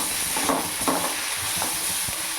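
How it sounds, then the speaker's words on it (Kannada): Onion and tomato fry in a pan with a dense, loud sizzle, and a few soft stirring scrapes sound close over the hiss, with no one talking. "ಟೊಮೆಟೊ ಕೂಡ ಹಾಕಿ ಫ್ರೈ ಮಾಡ್ಕೊತಾ ಇದ್ದೀನಿ."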